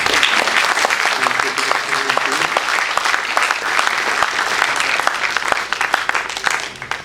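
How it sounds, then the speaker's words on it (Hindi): Theatre audience gives the Impact Arts company a loud, sustained ovation after the play, dense clapping from many hands filling the hall for several seconds with sharper individual claps poking through. "इन सब के लिए एक जोरदार ताली।"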